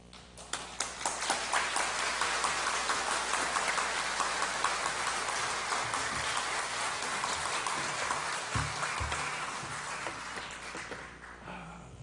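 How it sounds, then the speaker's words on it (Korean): A church congregation claps to welcome a pastor coming forward at an anniversary, installation and retirement thanksgiving service, dense sustained applause filling the hall for most of the stretch before thinning out near the end. "나오실 때 우리 박수로 맞이하도록 이렇게 하겠습니다."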